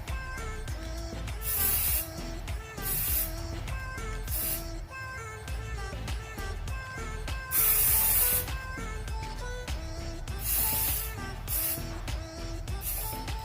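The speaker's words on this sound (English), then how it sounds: "what I do is spray it evenly on the hair" Repeated short bursts of heat protectant spray hissing close by onto hair, several quick pumps in an uneven rhythm over background music.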